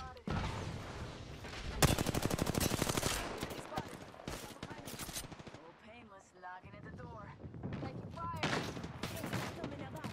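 Automatic weapon fire in an online shooter game during a ranked match, with dense rapid bursts and scattered shots, some close and loud, others farther off, while teammates talk over it.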